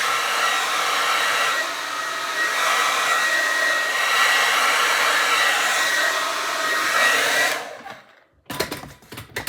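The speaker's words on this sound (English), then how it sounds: "It's a blow dryer." A handheld blow dryer runs steadily at close range with a loud, continuous airy whoosh for most of the stretch, then cuts off and gives way to a few brief rustles and knocks.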